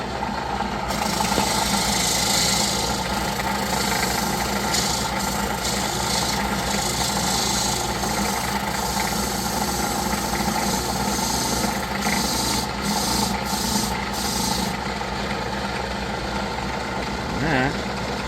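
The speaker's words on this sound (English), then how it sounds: "And then we've got our drum sander." Drum sander smoothing wooden woodworking templates, a steady loud rumbling whir with gritty rubbing running continuously throughout, close by.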